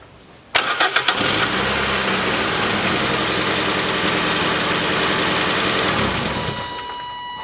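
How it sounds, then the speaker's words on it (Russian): A 2012 Nissan Qashqai 1.6 with a leak near the clutch release bearing cranks and fires, its engine settling quickly into a steady, close idle that continues to the end. "Сейчас попробую запустить автомобиль, показать, откуда оно вытекает."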